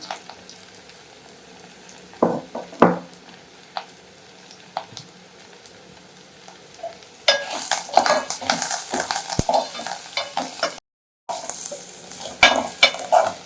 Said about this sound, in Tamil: இதே மாதிரி வர வதக்கிங்க வெங்காயம்